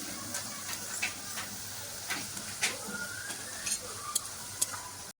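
Chicken-stuffed pointed gourd masala sautéed in a pan, with a soft steady sizzle and scattered sharp scrapes and clicks of a spatula stirring, fairly quiet and close, no talking.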